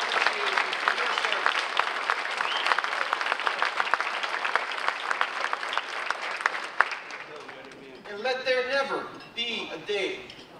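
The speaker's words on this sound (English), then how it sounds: "let's give you a great round of applause." Audience at a veterans' dinner social in North Reading, Massachusetts, applauds Korean and Vietnam War veterans with dense, sustained clapping for about seven seconds. The clapping then thins out and a voice begins speaking.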